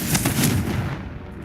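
The Confringo blasting spell in Hogwarts Legacy goes off as a loud, booming burst that rumbles and crackles for over a second before fading out.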